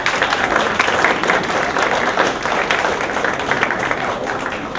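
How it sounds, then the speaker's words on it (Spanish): An audience at a book presentation on Mexican electoral processes gives a speaker a steady round of applause, a dense, even roar of many hands clapping that fills the room and holds at the same level throughout. "le damos un aplauso."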